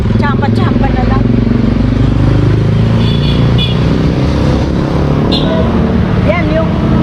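A motorcycle rides past during a town fiesta fun run, its engine rising and falling close by while people chatter and call out around it.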